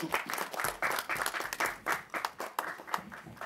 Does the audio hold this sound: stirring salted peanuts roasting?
no